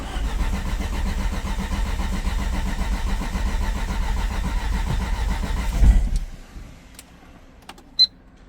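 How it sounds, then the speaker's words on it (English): A big-turbo Audi A4 B7 with a newly installed drive-by-wire throttle cranks for about six seconds, a loud close rhythmic starter churn that nearly catches, then cuts out, leaving near silence broken by a few clicks. "Let's start the car and hear what it does."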